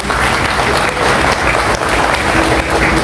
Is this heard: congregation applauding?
yes